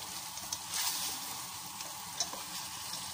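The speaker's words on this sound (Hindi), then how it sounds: "इसे अच्छी से मिक्स करके साथ साथ भूनती जाऊंगी।" Chicken and chana are stir-fried and roasted in a pan, giving a soft but steady frying sizzle with occasional light stirring clicks, close and without voices.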